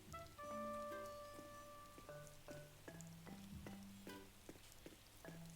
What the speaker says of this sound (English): It's raining, so yes, water it is.